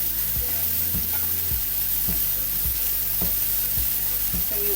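Bhaji chilli thoran frying in a pan while salt is stirred in, a steady loud sizzle broken by regular scraping strokes of the spoon, close and without voices.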